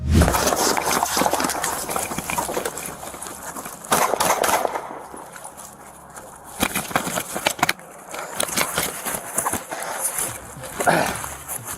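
Gunshots exchanged during a police pursuit, caught on dashcam: sharp broadband bangs crack out near the start, around four seconds, and again near eleven seconds, amid loud, tense shouting and radio chatter.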